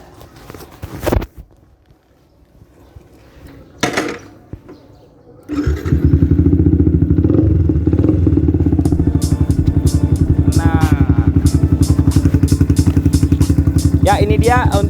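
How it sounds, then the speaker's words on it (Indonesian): A new Yamaha Vixion motorcycle, custom-built, with a few thumps and clatter, then its engine fires up at about five seconds and settles into a loud, steady, rhythmic running idle up close, with faint higher sounds on top. "Saya mau kasih dengar ke kalian seperti apa suaranya dan feel-nya pada saat kita mengendari motor ini."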